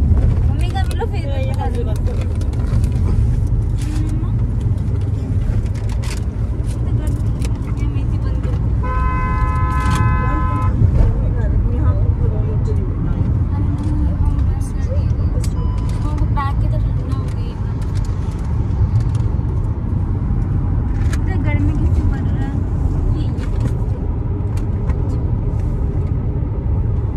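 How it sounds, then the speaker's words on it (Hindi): Heavy road traffic with trucks, heard from inside a car on a road trip in Bihar and Assam: constant low engine rumble, horns tooting at intervals and people talking throughout. "यहाँ बहुत ही ज़्यादा ट्रैफिक है"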